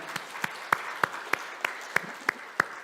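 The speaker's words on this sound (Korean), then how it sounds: "우리 하나님께 영광과 감사의 박수 올려드립니다" A congregation claps in steady unison during a Korean Presbyterian Sunday worship service, about nine evenly spaced, crisp claps in a regular beat, moderately loud with no voices over them.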